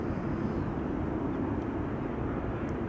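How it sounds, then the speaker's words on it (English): A Royal Jordanian airliner approaching Amsterdam Schiphol Airport, its engines a steady broad low roar that holds loud and even throughout without breaks. "Royal Jordanian in the meantime having gotten closer by."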